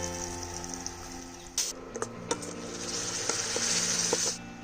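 Masala with turmeric and chili powder fries in a pan over medium heat, a steady bright sizzle with a few sharp clinks and scrapes of stirring, close and continuous.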